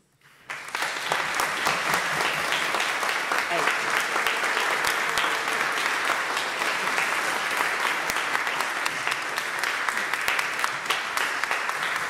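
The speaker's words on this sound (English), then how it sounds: "Another round of applause, please." An audience breaks into sustained applause after a speech at a harbor celebration, dense clapping starting abruptly and holding steady and loud throughout.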